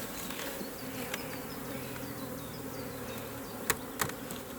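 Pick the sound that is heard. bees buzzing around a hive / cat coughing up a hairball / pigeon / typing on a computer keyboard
bees buzzing around a hive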